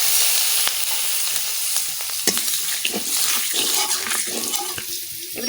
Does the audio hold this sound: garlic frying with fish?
yes